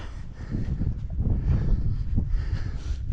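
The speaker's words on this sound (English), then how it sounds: "but a little too windy to faff" Continuous low wind rumble buffets the microphone throughout on a moorland hike at Shatton Edge and Abney Moor, a steady blustery roar without any voices.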